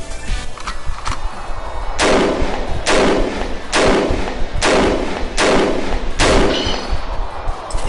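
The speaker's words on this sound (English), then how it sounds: "If I empty the clip at this range," In the video game Noel the Mortal Fate, a gun is emptied at a machine: six loud, close shots fire at a steady, evenly spaced pace, preceded by a few softer clicks.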